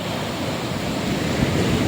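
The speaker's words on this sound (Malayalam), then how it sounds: "ചാലിയം ബീച്ചിൻ്റെ കടൽ തീരം ഇങ്ങനെ കേട്ടോ." Sea waves at Chaliyam beach in Kerala make a steady, continuous wash of surf, loud and even with no break, mixed with some wind rush.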